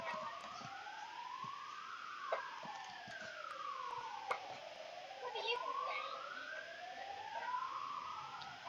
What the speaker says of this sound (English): Hopefully you guys can't hear the sirens.